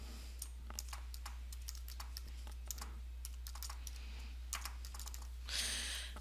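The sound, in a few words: typing a password on a computer keyboard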